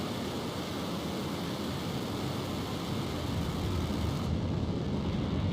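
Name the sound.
Falcon 9 rocket liftoff engine roar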